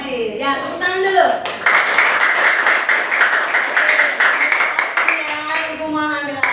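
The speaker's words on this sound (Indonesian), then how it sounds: "Ya, tepuk tangan dulu." Children clapping their hands together in a classroom, a sustained burst of close, even applause lasting several seconds, with a teacher's voice speaking briefly before and after.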